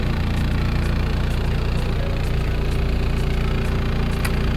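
A Lexus LS430 engine idles roughly and steadily, a dense low rumble with heavy shaking vibration from worn engine mounts and faint rattles, continuous and close.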